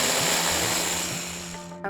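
A kitchen blender purees onions into a fine paste for paneer tikka masala sauce, a loud steady whirring roar close by that holds for almost two seconds before cutting off abruptly.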